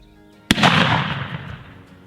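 A single sharp shotgun blast during a Wisconsin turkey hunt, loud and close, cracking at once and then rolling away in a long, fading echo across open ground.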